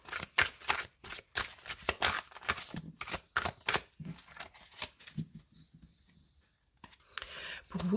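Tarot cards being shuffled, a rapid run of crisp riffling slaps and flicks, then quieter sliding and placing sounds as cards are drawn, close and fairly soft.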